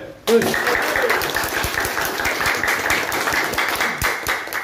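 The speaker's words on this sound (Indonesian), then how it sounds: "kasih aplaus dulu ya" An office group applauds a colleague's promotion to marketing manager, dense steady clapping from many hands starting abruptly and continuing at a fairly loud, even level with voices mixed in.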